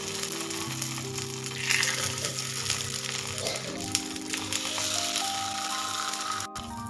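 Gram-flour-coated colocasia leaves sizzle steadily in oil on a flat tawa, a loud, continuous frying crackle with faint tonal background sounds running underneath.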